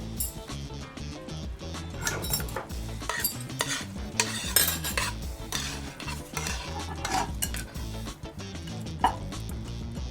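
Spoon scraping and clattering in a dish as sauce is ladled out in a busy kitchen, continuous stirring and clinking with sizzling in the background, close and steady, no speech.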